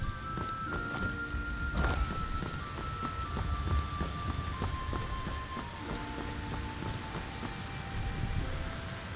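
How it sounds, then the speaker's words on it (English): Steady rain hisses in a video game with a Nordic setting, a dense, even wash of droplets with a few sharper knocks and faint tonal game sounds running underneath, no one speaking. "Let's just start raining again, right?"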